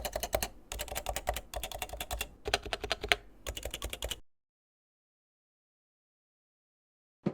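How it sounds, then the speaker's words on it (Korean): Fingers type fast on a Topre electrostatic capacitive keyboard with noisy stabilizers, giving close, clattery bursts of keystrokes for about four seconds, then silence and one last tap. "그리고 스테빌 소음도 잘 잡혀있지 않아서 꽤 시끄러운 소음을 냅니다."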